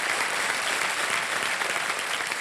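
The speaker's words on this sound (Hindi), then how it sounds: "मैं चाहता हूं कि जोरदार तालियां बज जाए" A television game-show studio audience breaks into thunderous applause, a thick, even roar of clapping that holds steady and loud throughout.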